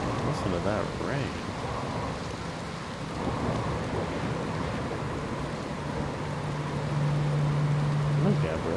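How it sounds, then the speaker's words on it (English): Steady rain pours in the game Outer Wilds beside a campfire, a dense continuous hiss with occasional low rumbles, with a soft sustained tone and brief voice-like sounds mixed in. "Listen to that rain."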